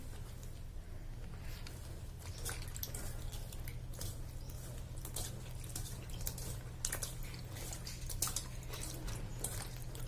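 Cut ridge gourds are rinsed in water, giving a steady run of wet drips, squishes and sloshing handling noises close by with no talking.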